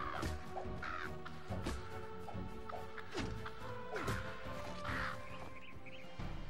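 Crows cawing in the video game Palworld, several harsh caws repeating at irregular intervals over an ambient game soundscape, with a few sharp knocking hits mixed in.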